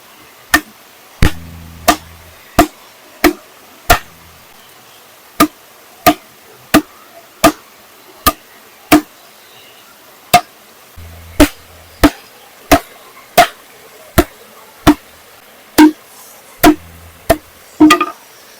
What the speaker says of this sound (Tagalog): Ito na yung nadikdik ko na baloko.